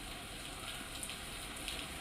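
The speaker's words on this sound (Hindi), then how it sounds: "जयपुर में मूसलाधार बारिश के साथ ओलावृष्टि हो रही है।" Torrential rain with hail pours down in Jaipur as a dense, unbroken hiss of falling water, with a few faint sharper impacts standing out against the steady wash.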